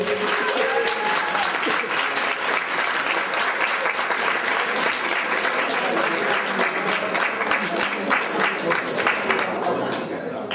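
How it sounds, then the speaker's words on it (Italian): Steady, sustained applause from an audience at a winter cosplay festival, dense clapping holding at an even loud level for about ten seconds. "un applauso"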